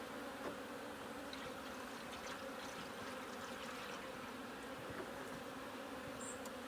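Honey bees at a beekeeping class give a steady, faint, continuous buzz, a low even drone with no pauses and no voices.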